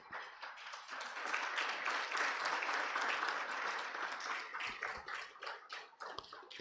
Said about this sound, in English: Can I request the team from BDO to stand up and we give them a big clap for